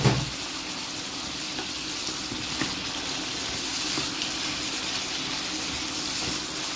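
Sausages fry in a pan with a little added water, sizzling steadily up close, with scattered soft pops and a few spatula clicks.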